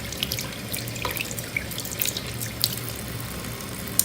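Tap water runs steadily into a sink while crystals are rinsed free of soap, a soft continuous splash with a few light clinks and drips, moderately quiet and with no talk.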